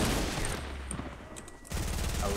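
Rapid bursts of gunfire in a video game, loud and close, with dense repeated shots that briefly thin out before resuming.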